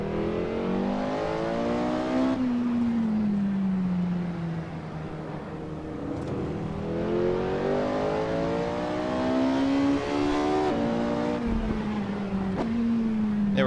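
A Porsche 918's V8 engine in the Assetto Corsa racing game revs up to 9,000 RPM, a loud continuous whine that climbs and falls through repeated gear changes with no talk.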